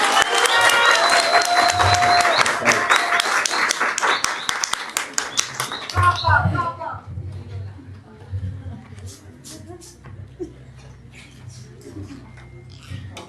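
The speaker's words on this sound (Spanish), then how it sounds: "Y un fuerte aplauso." Audience applause at a talk on judicial reform, loud and dense for about six seconds before breaking off into scattered claps, low room rumble and a few faint voices.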